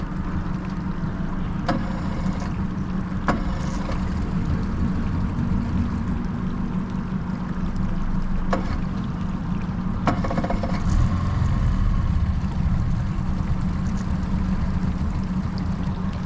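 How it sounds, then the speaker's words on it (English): A boat's outboard kicker motor is being cranked with attempts to start it, heard as a steady rumbling drone with a few sharp clicks and surges, close and loud, with no talking. "trying to get that kicker started"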